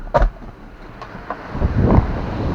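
Strong wind with rain gusting out on the water while fishing, a rough broadband roar with buffeting wind noise on the microphone and a sharp knock near the start, swelling louder toward the end.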